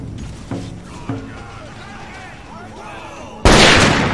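Scattered musket shots pop in an Empire: Total War battle, a few sharp reports followed by a loud burst of blasting noise at the end, with distant shouting.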